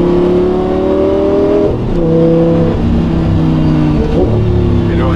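An Audi R8 V10 engine revs in steady, harmonic sweeps that drop and climb again with each gearshift, loud and close, with abrupt jolts between gears.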